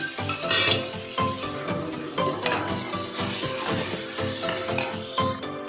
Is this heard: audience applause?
no